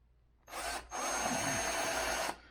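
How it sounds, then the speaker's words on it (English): A Hart brushed cordless drill boring a hole in metal with cutting fluid: a short whir, a brief pause, then a steady, fairly loud drilling whine for about a second and a half before it stops. "Let's drill a hole in there."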